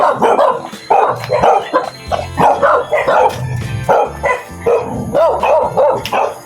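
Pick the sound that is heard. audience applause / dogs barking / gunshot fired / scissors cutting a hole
dogs barking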